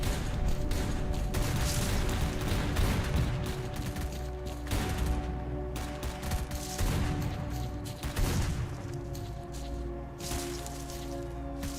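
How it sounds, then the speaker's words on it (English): Dense bursts of rapid gunfire in the video game S.T.A.L.K.E.R.: Shadow of Chernobyl crackle almost continuously, with rattling volleys rising and falling in intensity over a busy background. "Like, all you're hearing is gunshots."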